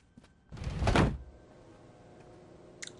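Door slamming shut on a character's hand in the video game Saints Row 2: a single loud, heavy thud with a brief rattle, then a quiet tail and a faint small click near the end.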